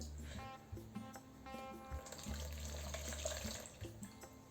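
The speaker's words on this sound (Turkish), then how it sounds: "Bunun üzerine 300 mililitre su koyacağız." Water running from a tap and splashing into a bowl onto yeast for homemade pizza dough, a steady close pour with brief interruptions and no talking.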